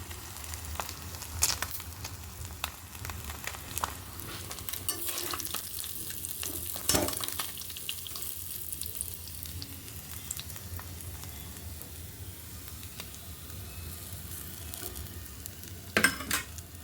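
Mustard seeds and fenugreek fry in hot oil, giving a faint, steady sizzle with scattered sharp pops and occasional clinks of a utensil against the pan, and no voices.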